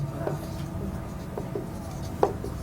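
Soft scratchy writing strokes while a math solution is worked through: short, faint pen or marker scrapes in an irregular rhythm over a low steady background hum.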